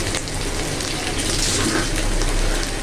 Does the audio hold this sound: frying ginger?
yes